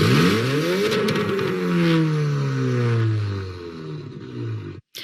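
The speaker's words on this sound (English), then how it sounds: "That's the sound of a vehicle with an illegal muffler posted to the Winnipeg Police Facebook" A vehicle with an illegal muffler revs loudly and close, its engine note sweeping up and down in a snarling roar before cutting off abruptly.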